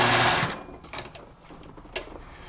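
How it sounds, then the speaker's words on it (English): A zigzag sewing machine stitches a piece of fabric for a jacket front canvas, a loud close mechanical whir for about half a second before it stops, followed by a few faint clicks. "Let's go to the zigzag machine."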